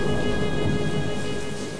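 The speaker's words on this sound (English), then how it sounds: "It's creating instability and the perfect recipe for thunderstorm activity, which we're experiencing right now." A La Niña thunderstorm with steady heavy rain and a low rumble of thunder, a dense continuous wash of sound that fades slightly toward the end, no voices.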